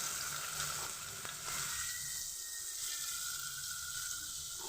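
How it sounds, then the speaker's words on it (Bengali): Cloves, cinnamon and black pepper frying in hot oil for a katla fish kalia, a bright continuous hiss that thins out partway through, with a faint click, close and quiet, no speech. "লবঙ্গ দারচিনি আর একটু গোলমরিচ দিয়ে দিলাম"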